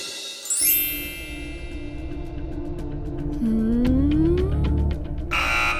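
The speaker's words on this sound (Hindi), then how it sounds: "दूसरा क्लू हम नहीं दिखा सकते क्योंकि आपने बजर बजा दिया है।" Electronic buzzer and chime effects on a Hindi television game show, a bright ringing tone with a rising synth sweep over steady studio music, ending in a short noisy burst.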